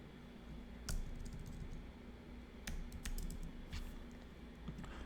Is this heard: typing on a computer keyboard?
yes